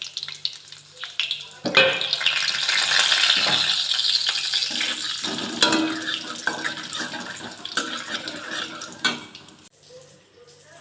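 Dry red chilies, bay leaf and cumin hitting hot egg-frying oil burst into a loud crackling sizzle that settles into steady frying, with clinks and scrapes of a utensil against the pan nearby.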